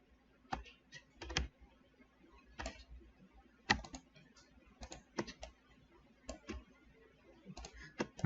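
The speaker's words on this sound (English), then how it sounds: "every time I want to select an object, I hold Shift and I click on it" Computer keyboard keys and mouse clicks while selecting multiple objects in a 3D editor's outliner, sharp irregular clicks in small bursts, close and fairly quiet, with no talking.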